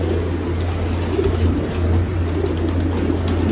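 Racing pigeon cooing softly at close range, a few low repeated coos over a steady low hum, with no talking.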